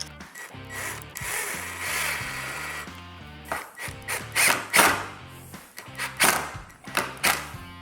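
Power drill driving screws into a wooden board for a DIY motorcycle helmet rack, with repeated whirring bursts and grinding bites into the wood, rising and falling in a close, loud rhythm.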